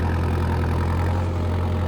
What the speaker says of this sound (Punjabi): ਆਪਾਂ ਵੀ ਜ਼ੋਰ ਚੈੱਕ ਕਰ ਰਹੇ ਆ ਵੀ ਕਿੰਨਾ ਕੁ ਲਾਉਂਦਾ ਟਰੈਕਟਰ